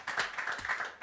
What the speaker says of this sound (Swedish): nu skjuter vi in en applåd för din meritlista